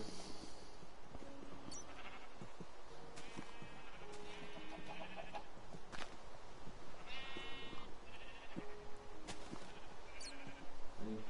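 Video game sheep bleat repeatedly over a busy farmyard background, several overlapping calls near and far, with occasional clucks mixed in.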